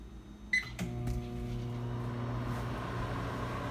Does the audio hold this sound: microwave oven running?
yes